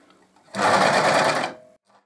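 Singer 14SH754 overlocker stitching fabric, a single loud, rapid burst of machine whirring lasting about a second, close up, with quiet moments before and after.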